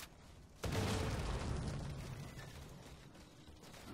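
A grenade blasts in a Halo match, a sudden loud boom that breaks in after a brief quiet and decays into a long rumbling roar over several seconds, with no voices.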